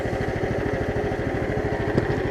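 A new 420cc engine fitted to a Case 700 series tractor runs steadily at idle, a close, loud, even chugging drone with a regular low pulse and a brief click near the end.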